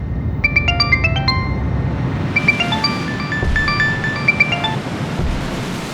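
A phone ringtone plays a bright repeating melody twice over a steady rushing background noise.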